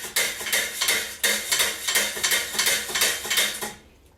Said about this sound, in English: I'm giving it a really good stir, especially with the carboxy because it can clump up a little bit.